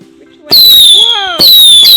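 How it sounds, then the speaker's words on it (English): Fireworks set off during a New Year celebration: two loud, close launches, each with a rising whistle and a crackling burst, following a quiet start. "Alright guys, so let's do more fireworks"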